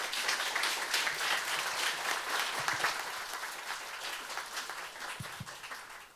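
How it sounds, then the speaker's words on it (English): An audience claps warmly at a university matriculation ceremony, a dense sustained round of applause that gradually tapers off, with a few louder individual claps near the end. "Let's give him a warm round of applause"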